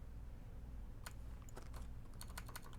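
Keys tapping on a computer keyboard beside a vintage S-100 computer setup, a quiet, irregular scatter of clicks in short bursts over a steady low hum, with no voices.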